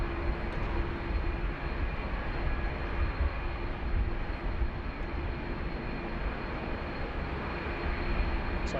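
A Boeing Dreamliner airliner taxis on the runway at Sydney Airport, its engines giving a steady, broad low rumble that holds unchanged throughout, with no voices over it.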